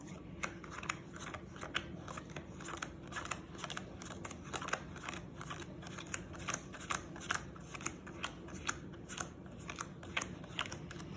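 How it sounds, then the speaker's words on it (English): A deck of playing cards for the Skulls of Sedlec card game is shuffled by hand close up, with a quick run of crisp riffling snaps repeating steadily over several seconds. "I'm just shuffling up the cards here"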